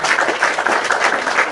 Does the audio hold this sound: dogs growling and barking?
no